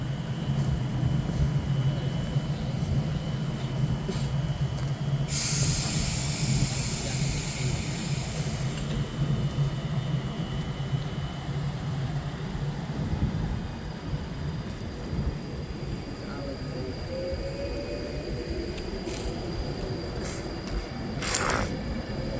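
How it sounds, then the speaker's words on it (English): A West Coast train pulls away from a platform at Nuneaton, running from Manchester Piccadilly to London Euston. A steady low rumble of traction and wheels stands out, with a brief hiss and occasional high squeals, and no voices. "getting ready to depart now is the 41 of West Coast service from Manchester Piccadilly to London Euston"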